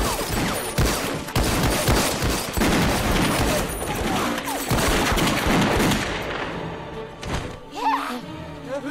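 Heavy, sustained gunfire from a Chinese fantasy action film: dense volleys and rapid bursts crackle almost continuously, loud and close, with shouting voices mixed in and a brief lull near the end.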